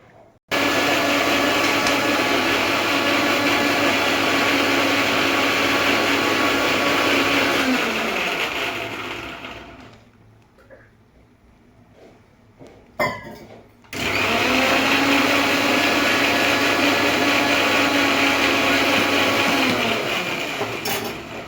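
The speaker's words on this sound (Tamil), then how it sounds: "ஒரு ரெண்டு வெங்காயம் நாலு பூண்டு ஒரு துண்டு இஞ்சி மிக்சியில் போட்டு அரைச்சிடணும்" Mixer grinder whirring loudly while grinding onion, garlic and ginger, running steadily for about eight seconds, stopping briefly, then restarting for another long burst.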